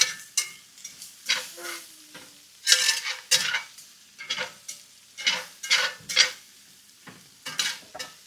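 Garlic sautéing in a hot pan, heard as a run of sharp sizzling bursts and scraping stirs roughly every half second, close and fairly loud with quiet gaps between strokes.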